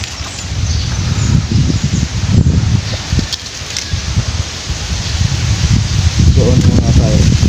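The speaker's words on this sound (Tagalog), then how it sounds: "Ang lakas ng hangin dito." Strong wind blows through trees outdoors near graves, with rustling leaves and heavy gusts buffeting the microphone, loud and continuous, while someone speaks intermittently.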